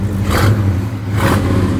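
A 1971 Chevelle SS's original 454 LS5 V8 idles with a deep rumble and is revved twice, each blip rising briefly before settling back to idle.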